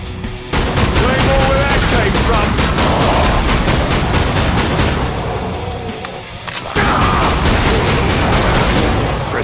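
Gunfire in Killing Floor 2 during a hard survival match at Containment Station: dense, loud, rapid automatic bursts that continue almost without a break, with a brief lull partway through before the shooting resumes.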